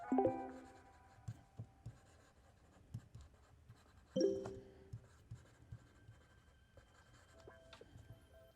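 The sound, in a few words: handwriting on an iFLYTEK AINOTE Air 2 e-ink tablet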